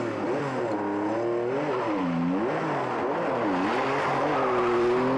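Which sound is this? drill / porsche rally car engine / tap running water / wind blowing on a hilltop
porsche rally car engine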